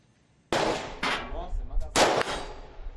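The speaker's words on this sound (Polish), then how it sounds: "We Włocławku zorganizowano dla mieszkańców wielkanocne strzelanie." Gunfire from real firearms with live ammunition at an Easter shooting event for residents in Włocławek: three loud, sharp reports roughly half a second to a second apart, each with a ringing decay, and no talk.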